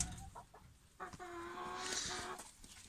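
Chickens in a newly built coop meant for about a hundred birds, clucking and squawking in overlapping bursts at moderate distance against a quiet background.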